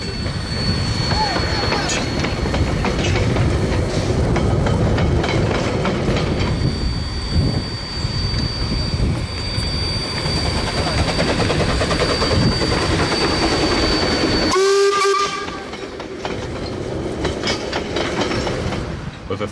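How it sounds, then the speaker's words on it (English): Steam locomotive F163 runs passenger shuttles around a railway yard during Settlers' Day celebrations, a continuous loud rumble of wheels and clanking rolling stock, broken near the end by a brief whistle-like tone and a short drop. "F163 was in steam, operating passenger shuttles within the railway yard"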